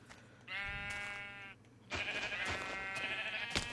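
Sheep bleating in the game Minecraft, two drawn-out, wavering bleats in succession, the second longer and brighter, close and clear with no talking.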